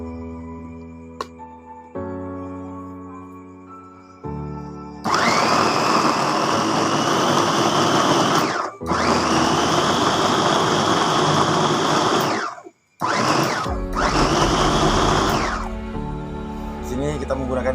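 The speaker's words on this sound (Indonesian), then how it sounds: "Mari kita sama-sama mulai dengan pemblenderan atau penghalusan." An electric blender grinds natural ingredients for a poultry remedy, a loud high motor whir in long bursts with brief stops and restarts, while a person talks before and between the runs.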